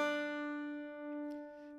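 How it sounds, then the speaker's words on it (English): A single banjo string struck downward with the fingernail in clawhammer style, a clear plucked note ringing steadily and slowly fading, quiet and alone. "we strike downwards on the string with the front of the nail."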